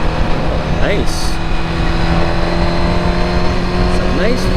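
A car, a BMW M4, roars close by and sweeps past amid steady traffic and wind noise in the rain, heard from a Suzuki GSX-R1000 motorcycle, with a voice talking over it.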